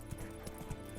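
Roach the horse's hooves in The Witcher 3: Wild Hunt, a brief run of a few soft rhythmic clip-clop hoofbeats over low game ambience.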